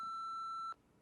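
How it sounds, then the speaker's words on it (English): A single steady answering-machine beep in the Nancy Drew game The White Wolf of Icicle Creek, a clean tone held for about three-quarters of a second before cutting off into quiet. "wait for the beep and leave us a message"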